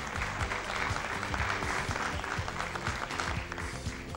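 Studio audience applauding on a Romanian television program, a steady wash of dense clapping filling the whole stretch at moderate level, with faint voices underneath.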